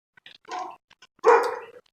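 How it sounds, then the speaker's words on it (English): A dog barks twice, a short bark followed by a louder, fuller one, fairly close and heard on its own with no talking. "I've never heard that dog before"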